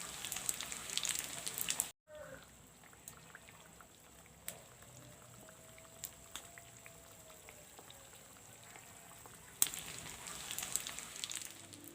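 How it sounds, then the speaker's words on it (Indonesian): Indonesian market snacks frying in oil over a medium-low flame, a soft steady crackle and sizzle with scattered small pops, fairly quiet and close, no voices. "Goreng dengan api yang sedang cenderung kecil supaya matang merata."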